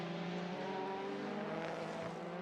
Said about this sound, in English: Get the engine wound up down the start-finish straight.